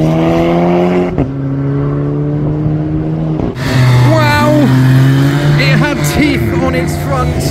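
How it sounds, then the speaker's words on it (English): Audi R8 first-generation V8 with no exhaust, driving away from a car show. The engine drones loudly and then revs hard through rising gear sweeps, with crowd voices underneath. "Audi R8 Gen 1 V8 without an exhaust."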